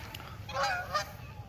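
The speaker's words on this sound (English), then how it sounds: "geese." Geese honk in a short burst of a few calls, fairly close and clear over a low steady background rumble, with no talk.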